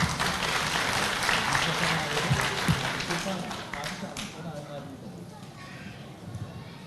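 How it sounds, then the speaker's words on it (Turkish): An audience applauds for children at an East Turkistan national assembly opening ceremony, a dense wash of clapping that is loudest at first and thins toward the end, with a voice speaking over it. "Kocaman alkışlarınız yavrularımıza gelsin"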